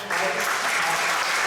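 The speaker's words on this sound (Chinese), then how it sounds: "我们特别给他们拍手祝福一下" A church congregation at a Sunday service applauds together in a brief, dense burst of clapping filling the room.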